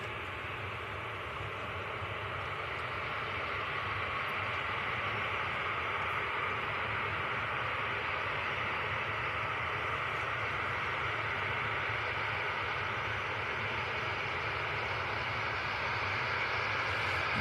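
A TUI airliner departing Manchester Airport on Boxing Day, bound for Kittilä: a steady, broad jet roar held at an even, moderate level from start to finish, distant and without voices.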